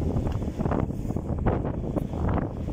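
Strong wind buffets the microphone aboard an old gaff cutter under sail, a steady loud rumbling roar with gusty swells throughout and no voices.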